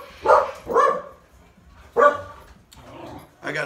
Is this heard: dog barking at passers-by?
yes